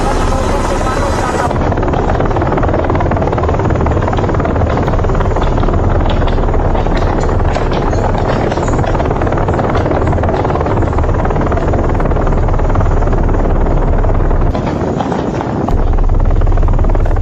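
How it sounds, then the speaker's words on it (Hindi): Loud, steady helicopter rotor noise throughout, a dense continuous roar with rhythmic chopping, close by and dominating the scene. "ये उनका हेलीकॉप्टर है, हेलीकॉप्टर रखते हैं।"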